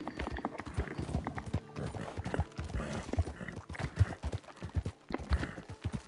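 Horse hooves trot in the Red Dead Redemption video game, a busy, uneven clip-clop of steady hoof strikes mixed with game ambience.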